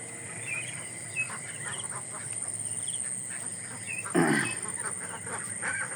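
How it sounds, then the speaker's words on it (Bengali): Domestic ducks in a large flock being raised on a farm quack faintly and intermittently over steady outdoor background noise, with one louder burst partway through. "অনেক অনেক হাঁস"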